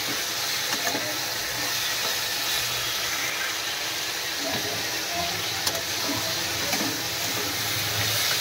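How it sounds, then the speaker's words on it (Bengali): A pot of vegetable curry boils with a steady hiss and low bubbling, constant and close throughout. "আর তরকারিটা ফুটছে আর একটু হবে।"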